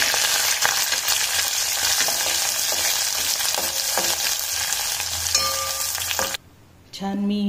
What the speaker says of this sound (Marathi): तेल तापायचं आहे, तापलेलं आहे। याच्यामध्ये कढीपत्ता टाकू